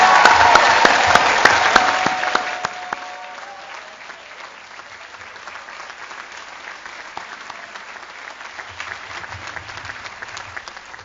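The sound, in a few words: applause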